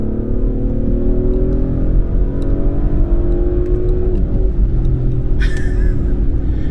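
An Audi SQ5 engine with a ZF 8-speed automatic pulls steadily with a loud, continuous droning rumble that rises in pitch, and a short sharp exhaust pop breaks through near the end at a gear change.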